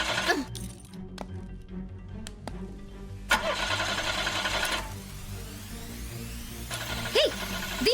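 A car engine cranks repeatedly without catching, several bursts of starter whirring with short gaps between them, close and fairly loud with no voices over it.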